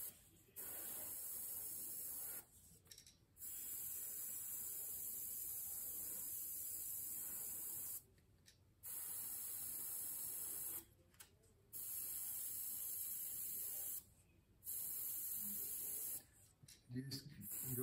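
Spray paint goes on in light coats over scale tape, heard as repeated close hissing bursts of a few seconds each, separated by short quiet pauses.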